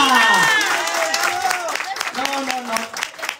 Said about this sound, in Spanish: un aplauso fuerte arriba a la Divina Providencia